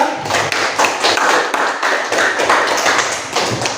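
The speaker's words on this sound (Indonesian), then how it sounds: "kita buat tepuk tangan untuk kelompok 2" Audience in a classroom applauds a student group after its presentation, a dense, steady patter of many hands clapping for nearly four seconds, close and fairly loud with no talk over it.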